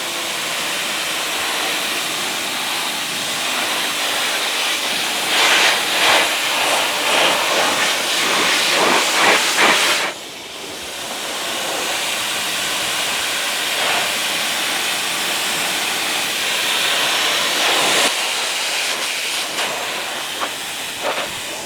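A pressure washer sprays water in a steady, loud hissing rush that runs continuously, with a brief drop in force midway before the spray resumes, cleaning outdoor surfaces of mold; no one speaks.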